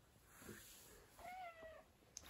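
A pet cat meows softly indoors, two or three short mews with rising and falling pitch, faint against a quiet room with light background hiss.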